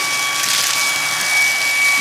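A vacuum cleaner with high and low suction modes runs in a steady, loud whooshing roar with a faint constant whine, unbroken and close.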